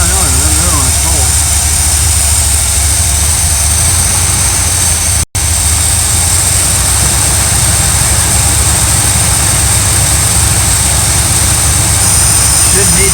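A warmed-up RV engine runs with a loud, steady, low rumble close by, continuous apart from one very brief dropout partway through.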